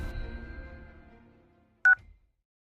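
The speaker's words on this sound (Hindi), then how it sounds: "कॉल कर इंस्पेक्टर साहब को।" A single short burst of telephone keypad dialing tones, loud and isolated after a fading stretch of low background noise, in a Hindi comedy skit about calling an inspector.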